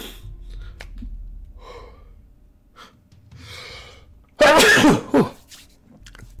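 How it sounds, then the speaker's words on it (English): A single sharp, loud sneeze bursts out after a few quiet breaths and small throat noises, then fades back to near silence. "it's a sneeze."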